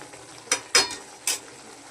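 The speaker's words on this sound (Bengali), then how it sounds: "এই যে মশলাটা কষানো হচ্ছে আমার" Spice paste sautéing in a pan for a prawn and bottle gourd curry, with three short bursts of scraping and sizzling over a low background hiss, no talk.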